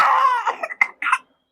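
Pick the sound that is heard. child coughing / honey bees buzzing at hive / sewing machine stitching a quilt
child coughing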